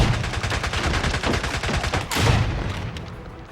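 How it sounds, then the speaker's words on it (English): An M1 rifle in the 007: Blood Stone video game is fired blind, loosing a rapid burst of loud, evenly spaced shots that ends in a heavier blast and a fading tail. "blind firing."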